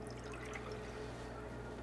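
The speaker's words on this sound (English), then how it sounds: "we're going to get some water in our cup here" Water pours into a cup in a home kitchen as a faint, steady trickle beneath a low background hum.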